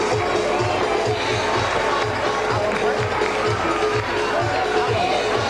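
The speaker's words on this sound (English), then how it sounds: "the Dewsbury crowd rises" Dewsbury Rams home fans roar at a rugby league Challenge Cup match against Leigh, a dense, sustained crowd cheer filling the stadium with no break, a commentator's voice under the noise.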